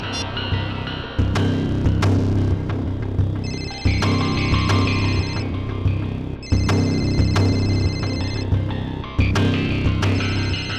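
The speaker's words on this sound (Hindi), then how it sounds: "और ये जो बेल बज रही है, इसी नंबर से फोन आया था।" A phone rings repeatedly in regular bursts of high electronic tones, with a steady low hum underneath and no one speaking.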